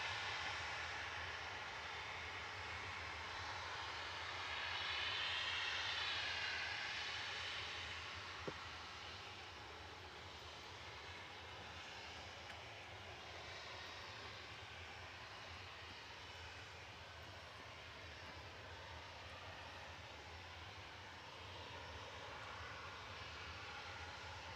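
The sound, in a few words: Ryanair Boeing 737-800 departing Manchester Airport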